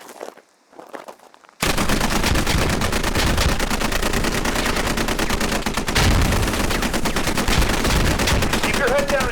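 Dense, continuous gunfire from a live-fire training exercise in a video game. It erupts loud after a brief quiet start and then keeps going as rapid automatic bursts with no letup.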